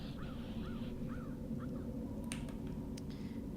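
Crow cawing in the video game Dreamfall, several short hoarse caws repeating at a steady pace over a constant low background hum, moderately close and clear, followed by a few sharp clicks.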